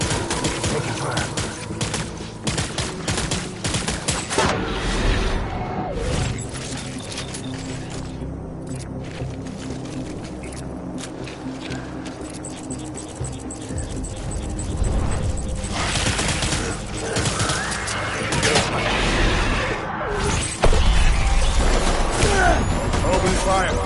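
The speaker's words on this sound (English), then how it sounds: "Taking fire." Gunfire rattles in a video game simulator, dense overlapping shots and bursts running continuously with mechanical clatter and noise, near and loud throughout, with voices mixed in.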